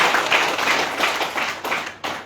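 A seminar audience claps at a direct selling business talk, giving a steady run of dense, fairly loud hand claps with no voices over them.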